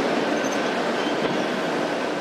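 Passenger train on the Athens–Thessaloniki line running on rails, a steady broadband rumble and hiss throughout with no talk.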